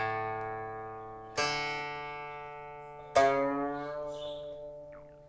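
Guqin strings plucked softly, with a note already ringing and then two more sharp plucks, each tone decaying slowly, quiet and close with no talking.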